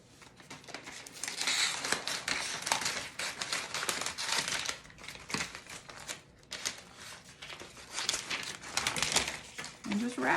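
Cambozola cheese being wrapped loosely round and round by hand, with soft crinkling of wrapping material, rustling in irregular bursts, close up, with some speech over it.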